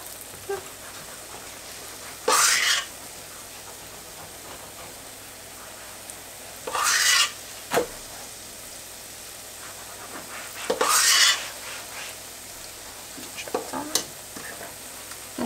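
Croustillon doughnuts fry in hot oil and are turned as they brown, giving a steady close sizzle broken by three louder bursts of crackling spaced a few seconds apart.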